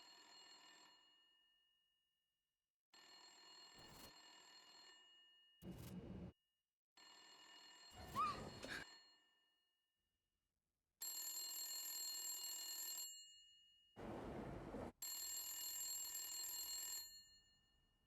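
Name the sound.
telephone ringing in a video game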